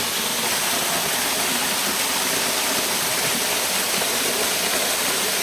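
Steady, roaring rush of falling water from a waterfall in Buderim, Queensland, heard from the walkway behind it, broadband and constant throughout, close and loud with no voices.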